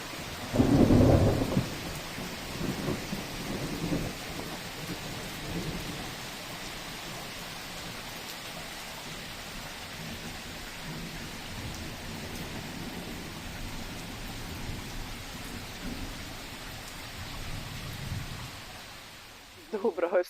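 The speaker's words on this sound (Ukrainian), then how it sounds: "Вчора такий дощик прийшов" A thunderstorm with steady rain falling over a garden where apple trees are blooming, a loud thunder rumble at the start, then a continuous wash of rain across the whole stretch.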